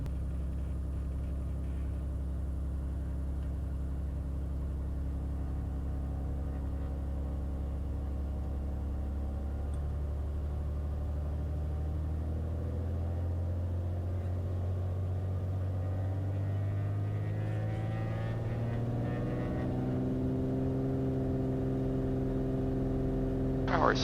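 A Beechcraft Bonanza piston engine at full takeoff power, departing runway 32 at Astoria, Oregon, heard as a loud, steady droning rumble that climbs in pitch toward the end.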